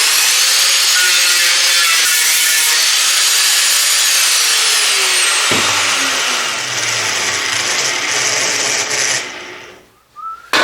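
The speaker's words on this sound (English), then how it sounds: "fine disc on the sanding disc on there, rubber backing pad, that sort of arrangement, and take the tops off the welds" Sanding disc on a rubber backing pad grinding down metal welds on a motorcycle fender, a loud continuous abrasive rasp with shifting whine that drops in pitch midway, then cuts off near the end.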